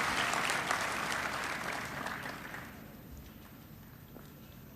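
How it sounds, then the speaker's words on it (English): An audience at a State House award presentation in Nairobi bursts into applause, loud at first and then gradually thinning and fading toward scattered claps. "A round of applause for her."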